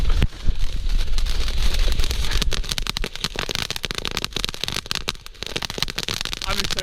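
Fireworks crackle and pop in a dense, continuous outdoor barrage, loud and close, with bursts of rapid snapping over a steady hiss.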